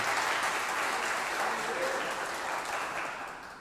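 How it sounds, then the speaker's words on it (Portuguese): A church congregation applauds for Jesus during a worship service, a dense, steady wash of many hands clapping that holds even throughout and fades slightly at the end. "Vamos aplaudir a Jesus? Vamos aplaudir."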